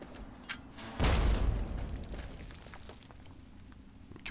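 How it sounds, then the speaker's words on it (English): A distant explosion booms in Fallout 3, a low rumbling blast that swells suddenly and then fades slowly over a lingering ambient bed, with a few faint ticks and clatters afterward. "something's blowing up on the other side"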